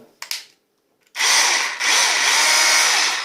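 An Assur 36V 5Ah cordless hammer drill gives a couple of short clicks, then spins up into a loud, steady high-pitched whir that dips once and continues close to the microphone.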